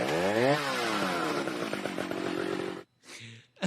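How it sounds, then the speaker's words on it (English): Chainsaw roaring loud and close, its engine pitch rising and then holding steady as it cuts for nearly three seconds, then cutting out, followed by a couple of short bursts. "If you guys are going to continue to fire up the chainsaws"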